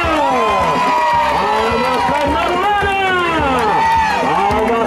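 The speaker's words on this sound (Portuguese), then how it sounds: "Merece uma salva de palmas." A crowd claps and cheers at a surprise romantic tribute in São Paulo's Tatuapé district, loud continuous applause mixed with whoops and shouting voices, with a strong tonal line sweeping up and down through it.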